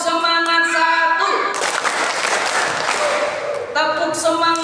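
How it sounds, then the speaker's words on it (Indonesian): Children clap together in the Indonesian "tepuk semangat" routine, a burst of close, lively applause framed by sung or chanted voices before and after the clapping. "Tepuk semangat 1"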